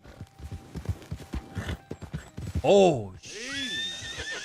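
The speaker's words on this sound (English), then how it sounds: "I'm just grabbing my horse and going." Horse whinnying loudly in Red Dead Redemption 2, following hurried talk and clip-clopping hooves, then a second drawn-out neigh near the end, with a voice speaking over the start.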